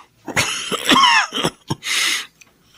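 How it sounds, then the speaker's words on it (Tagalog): A sick person alone coughs in a run of harsh, close bursts, with one long rasping cough and a throaty clearing sound toward the end, no talking. "Hirap na ako sa ubo ko."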